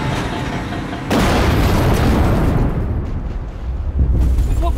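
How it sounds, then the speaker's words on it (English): A sudden deep boom hits about a second in, then a sustained loud, roaring rumble with crackling debris that churns on without letting up, a simulated oil well blowout explosion. "That was a blowout."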